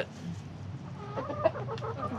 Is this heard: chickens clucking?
yes